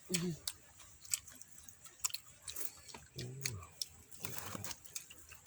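Soft, close chewing and mouth sounds come from a mother eating rice, in irregular bursts over quiet background with occasional faint voice sounds.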